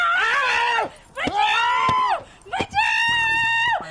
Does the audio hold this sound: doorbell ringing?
no